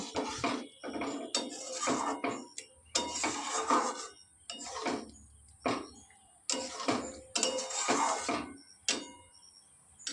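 Papaya chutney being stirred in a pan, giving repeated scraping and clinking strokes of a utensil against metal in a steady rhythm, close and fairly loud, with no talking.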